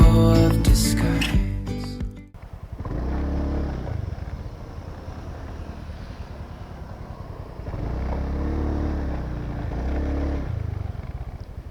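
A Honda Beat motorcycle rides along a road, its engine a steady low drone that swells and fades with throttle changes, after a brief burst of busier sound at the start.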